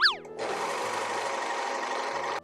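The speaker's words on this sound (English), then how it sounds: "why wouldn't I want to just overlock them right now instead?" An overlock machine hems the sleeve of an upcycled summer top, starting after a brief squeak and then running in one steady, close, continuous whir for about two seconds.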